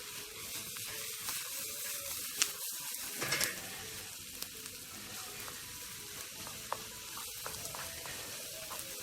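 Fried breadfruit and sausage sizzle steadily in a hot pan, a faint continuous crackle with a few light clicks and scrapes as pieces are flipped.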